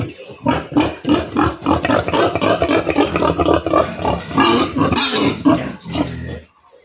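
A large sow of about 80 kilos on a pig farm grunts and squeals repeatedly at close range, the loud rough calls running almost continuously before trailing off.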